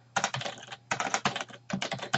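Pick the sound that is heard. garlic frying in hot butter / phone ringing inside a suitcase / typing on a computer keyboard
typing on a computer keyboard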